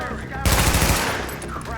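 A short burst of loud, rapid automatic gunfire in the game Tom Clancy's The Division, with game ambience before and after.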